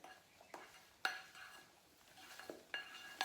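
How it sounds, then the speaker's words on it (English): Hair dye mixture being stirred in a container, with soft scraping and a few sharp clinks of the tool against the sides, fairly quiet with no talking. "We're gonna mix it together."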